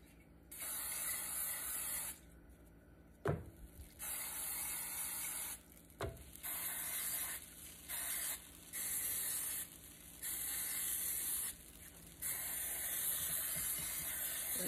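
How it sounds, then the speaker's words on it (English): Butter spray hisses onto bread for a sandwich in about eight separate bursts, some short and some longer, each a close, steady aerosol hiss with brief quiet gaps between them. "Now we're going to spray our bread."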